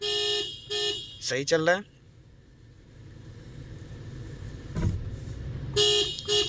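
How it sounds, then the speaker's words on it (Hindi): A Toyota Sequoia horn gives short beeps, two quick honks at the start and more at the end, with a brief spoken remark between them. "लास्ट पोजीशन में आके एक बार हॉर्न बजा लेना"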